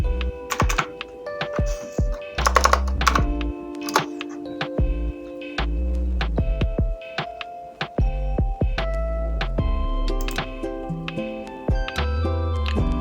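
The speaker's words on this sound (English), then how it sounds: "and then we can type 39." A computer keyboard is typed on to enter a value in a Figma design layout; irregular bursts of crisp key clicks sit over steady background music for the whole stretch.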